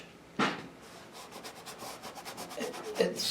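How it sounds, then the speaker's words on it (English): A heavy brush scumbles paint across canvas in a dry, scratchy rubbing texture, with repeated close strokes and one sharper scrape near the start. "You're really scumbling the paint on the canvas."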